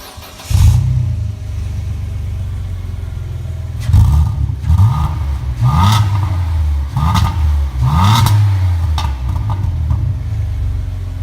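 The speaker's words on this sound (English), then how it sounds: "that's the Renault Sport Clio V6" A Renault Sport Clio V6 revving hard, a loud, close engine blipped in a series of sharp rising and falling rev bursts over a rough idle.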